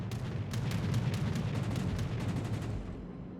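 Warship guns in World of Warships Legends boom in a rumbling, continuous barrage of overlapping distant-sounding shots with sharp cracks on top, steady for a few seconds before fading slightly.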